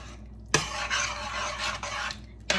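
A spoon stirs lasagna muffin filling with cheese in a bowl, giving close, continuous scraping and rubbing with a couple of sharp clinks against the dish.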